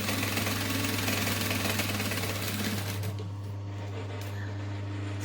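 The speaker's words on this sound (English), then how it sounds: "I'm just going to stitch them together with a normal stitch length" A home sewing machine runs steadily, stitching two pocket pieces together with a normal stitch length. Its loud, even mechanical whir and hum continues for about three seconds before stopping, leaving a faint low hum.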